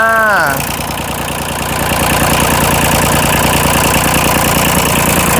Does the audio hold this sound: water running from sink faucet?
no